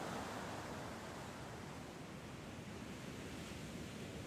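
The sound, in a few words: sea waves at the seaside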